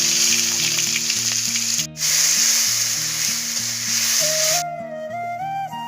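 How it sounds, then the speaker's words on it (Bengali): Onion, ginger and tomato paste fry in a pan with black cumin seeds, giving a continuous, bright sizzle under background music that briefly cuts out, with the frying dropping away near the end. "পেঁয়াজ, আদা আর টমেটোর পেস্ট আমি একসাথে ভালো করে ভেজে নেব"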